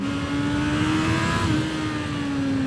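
A 2024 Honda CB650R E-Clutch revs hard, its engine holding a loud, steady high-pitched whine close by with no voices.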